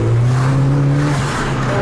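Cars pass along a road during a petrol-head weekend in South Africa: a loud, steady engine drone whose pitch sags slightly as a vehicle goes by, with no talk over it.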